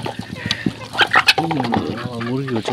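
Chickens cluck in short bursts among ducks on a farm, with overlapping bird calls close by and a person talking faintly underneath.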